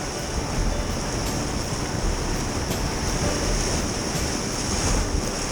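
Class 2 river rapids in Desolation Canyon rush and splash around a packraft, a loud, constant roar of churning water with wind buffeting close to the boat and no letup.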